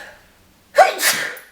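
A single sharp sneeze bursts out close by after a quiet moment, with a short breathy tail.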